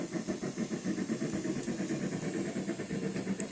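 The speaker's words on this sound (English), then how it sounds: "Just the sound and the pounding of the pistons sounds like the engine is going over 50 miles" Meadow River Lumber Company Shay #7 geared steam locomotive running, its pistons pounding in a steady, fast rhythmic chug that is moderately loud and continuous throughout.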